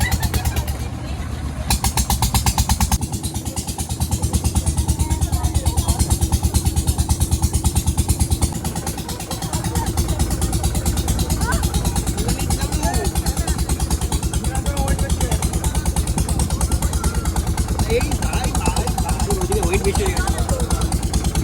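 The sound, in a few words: boat engine running during a boat ride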